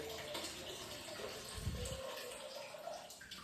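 Spring water from a mountain source splashes steadily into a main drinking-water storage tank, a continuous close gush with a brief low burble midway, alone without talk.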